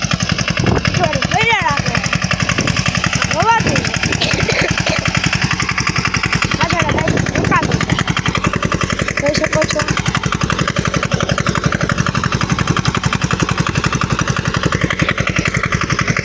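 A Saneda mini tractor engine runs steadily while sowing groundnuts in a farm field, chugging in a fast, even rhythm at close range. Voices talk over it now and then.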